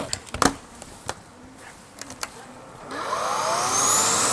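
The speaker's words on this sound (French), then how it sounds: "Le fait d'avoir cette petite turbo-brosse ici vient vraiment frapper le matelas." A Samsung Power Stick Pro stick vacuum with its turbo brush works a mattress: scattered knocks and clicks, then a steady loud whirring drone of motor and beating brush that builds toward the end.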